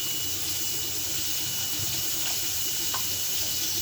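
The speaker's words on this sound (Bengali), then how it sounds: "গরম জল করে রেখেছিলাম, গরম জলটা দিয়ে দিই।" Hot water poured into a simmering prawn curry on the stove gives a steady hissing, rushing splash close by, continuous for a few seconds before stopping abruptly.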